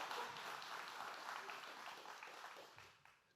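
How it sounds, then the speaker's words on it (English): An audience at a Southeast Georgia leadership forum breaks into a dense round of applause for an honoree, even and full-bodied before thinning out and fading near the end. "Give him a hand."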